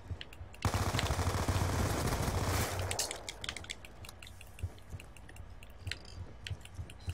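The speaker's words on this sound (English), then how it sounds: "He's shooting you in the face." Dense automatic gunfire from the Black Ops video game, a loud sustained burst for about two seconds, then quieter scattered shots and clicks.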